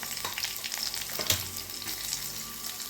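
Oil sizzles and crackles steadily as onion, garlic and curry leaves sauté in a pan, with a brief clatter of stirring partway through.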